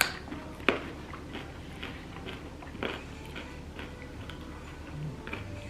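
A raw carrot coated in mustard is bitten and chewed close to the mic, with scattered crisp crunches and clicks over a low background hum.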